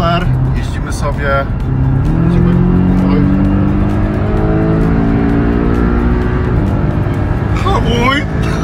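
A Porsche Cayman 718S engine drones loudly while driving, its pitch rising and falling through gear changes and acceleration, with people talking and exclaiming over it from inside the car.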